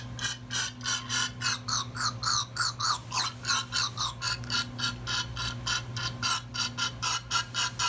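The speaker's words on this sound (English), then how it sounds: "So I'm going to spray some carb cleaner in here, let it work its way out" Carb cleaner sprays into a Yamaha V-Star 1100 motorcycle carburetor in short, rapid hissing bursts, with a rhythmic pulsing pattern that repeats steadily, close up and without talk.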